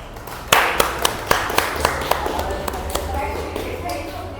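Students in a classroom clapping in a ragged, fairly quick series of sharp individual claps after a sudden start, close and crisp, while a low hum and some murmuring continue beneath.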